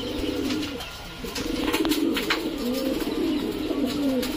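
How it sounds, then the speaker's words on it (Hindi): Pigeons feeding on grain from a tray set on the ground coo close by in soft repeated low rolling phrases, with light pecking clicks between them. "तो कबूतरों ने दाना खाना स्टार्ट कर दिए हैं"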